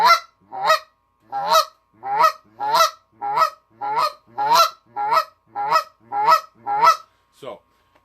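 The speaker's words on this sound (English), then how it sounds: "That is a cluck for you guys." A goose call blows a steady series of about a dozen sharp, honking clucks, evenly spaced and loud, close up with no other sound between them.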